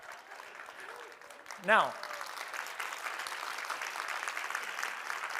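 An audience at a presentation claps steadily and fairly softly in the background, with a man's brief spoken word rising over the applause near the start.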